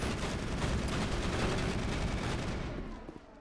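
Shotgun fire in the sci-fi shooter Mass Effect, a dense stretch of loud, close blasts and battle noise that keeps a steady roar before easing off near the end.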